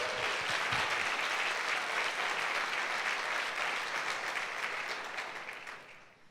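A church congregation at a Sunday service applauds steadily for about six seconds, a dense wash of clapping that stays loud, then thins and fades toward the end.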